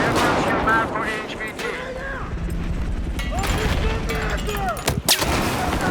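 Rapid gunfire and heavy blasts from the Battlefield 4 Final Stand shooter game crackle continuously under a dense in-game din, with a sharp burst near the end and voices speaking faintly underneath.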